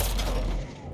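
Turret gunfire in a video game, a dense burst of rapid shots filling the whole second and tapering off at the end.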